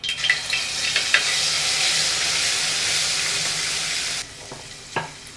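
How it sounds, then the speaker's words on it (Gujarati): Garlic and green chili paste sizzling loudly in hot oil with mustard seeds and cumin, a dense close crackle that drops abruptly to a quieter simmer with a few scattered pops. "આ છે આપણી લસણ ને મરચાંની પેસ્ટ"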